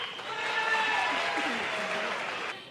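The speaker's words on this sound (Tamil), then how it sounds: "அதுக்காக ஜோரா கைத்தட்டி ஒரு சல்யூட் அடிங்க." An audience at a Tamil pattimandram debate stage breaks into a swell of applause that builds quickly, holds as a dense crowd roar, then begins to fade away.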